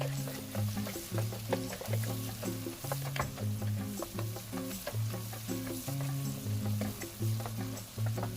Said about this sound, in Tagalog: Sautein nyo lang siyang mabuti and then isunod nyo na yung sili at ang ating garlic.